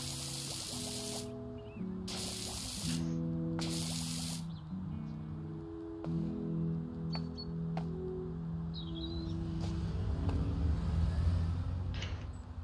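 In the Powerwash Simulator video game, a pressure washer loaded with stone cleaner sprays in three loud bursts of hiss, each about a second long, over soft game background music that carries on afterward.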